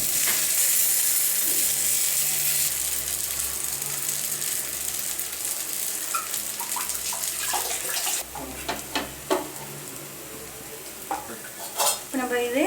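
Spicy kara kuzhi paniyaram sizzles loudly in oil in a pan. Partway through the hiss eases, and sharp scraping clicks follow as the dumplings are flipped one by one.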